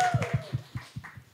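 An audience applauds a podcast co-host with a brief run of about seven evenly spaced, close claps, and a voice briefly at the start.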